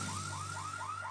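A cartoon alarm rings steadily, a rapid repeating electronic warble pulsing in regular cycles over a low constant hum, loud and continuous with no talk.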